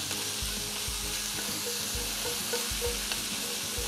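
Short ribs sear in a hot pan with a loud, continuous sizzle and spitting crackle, broken by occasional low thumps as the meat shifts, with no voices.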